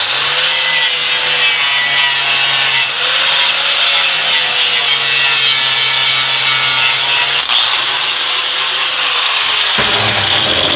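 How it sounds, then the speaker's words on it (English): A flap disc on an angle grinder grinds down a weld on a bead-blasted Corvair part with a loud, steady whining rasp. It eases off briefly twice as it is lifted, then cuts out near the end. "I'm going to flapper disc it down."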